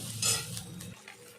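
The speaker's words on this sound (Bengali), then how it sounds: "হলুদ আর নুন দিয়ে আলুটাকে আমি ভালোভাবে নেড়ে চেড়ে ভেজে নেবো" Potatoes stirred and fried in a pan with salt and turmeric for a Bengali fish curry with potato and bori, giving a close scraping stir and soft sizzle; a louder scrape comes early, then the sizzle settles. No one speaks.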